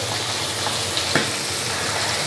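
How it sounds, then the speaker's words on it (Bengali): Fish frying in a pan, a close, steady sizzle with faint crackles and pops, brief and without any voices. "এখন হলো মাছ ভেজে নিব"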